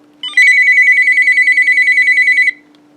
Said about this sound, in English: I love that clatter ringtone, and I actually prefer the sound of flicker on a piezo.